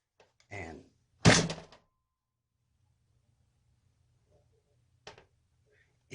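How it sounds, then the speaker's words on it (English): A rifle with an inserted magazine is banged on a table, giving one sharp, loud knock, preceded by a brief voice and followed later by a fainter clack. "I just simply banged it on the table"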